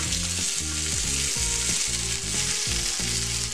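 Boiled, diced potatoes frying in a pan with cumin and curry leaves for a fasting breakfast, a steady close sizzle with rhythmic stirring scrapes throughout.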